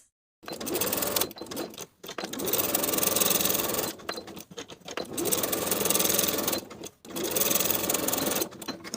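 Sewing machine edge stitching the side and bottom edges of a shirt jacket pocket flap, whirring in several close, steady runs separated by brief stops.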